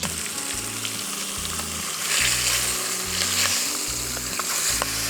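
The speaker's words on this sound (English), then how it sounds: "I love the sizzling" Chicken pieces frying in a pot for creamy paprika chicken, a steady close sizzle with spitting crackles that swells louder partway through and holds, no voices.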